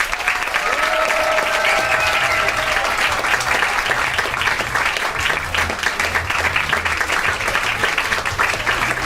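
An audience at a theatresports improv show gives loud, dense applause to welcome the performers, a steady roar of clapping mixed with crowd noise and a few whoops, lasting the whole stretch.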